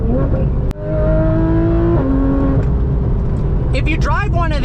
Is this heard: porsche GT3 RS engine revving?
yes